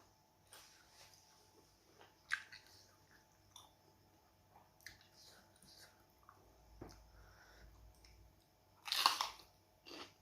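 Someone chews crunchy small squid, with scattered crisp bites and crunches close to the ear amid quiet pauses, one louder crunch near the end.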